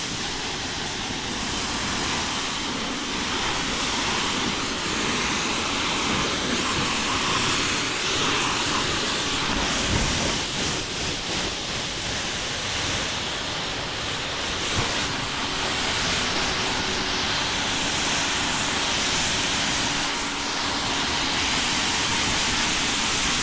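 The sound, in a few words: water spray pre-rinsing a car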